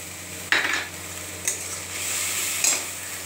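A spice paste of cumin, ginger and chilli with salt, turmeric and tomato puree sautés for fish curry, a soft steady sizzle punctuated by three distinct scraping stirs of a utensil in the pan.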